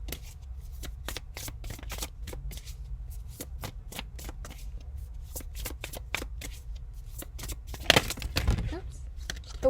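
Tarot cards handled and drawn from a deck, a run of crisp, quick flicks and shuffling snaps close by, fairly quiet, with a slightly louder rustle near the end.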